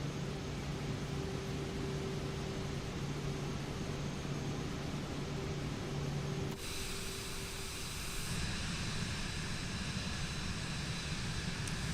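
Steady jet engine roar and hiss from a Cirrus Vision Jet cabin in Microsoft Flight Simulator 2024, flying from Southampton to Newquay; a continuous drone with a tonal hum that shifts character partway through, no talking.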